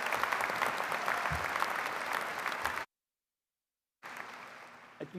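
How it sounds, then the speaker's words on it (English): A commencement audience at a University of Maryland business school ceremony gives a round of applause, steady dense clapping that cuts to silence, then resumes briefly and fades. "a round of applause for the investment he has made in the University of Maryland"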